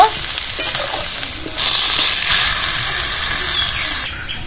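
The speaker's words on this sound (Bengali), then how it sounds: "মটরশুঁটিগুলো এবার ফুলকপির মধ্যে দিয়ে দেবো" Cauliflower and green peas with turmeric sizzle in a pan while being stirred, giving a close, steady hiss that swells and fades as the vegetables are turned.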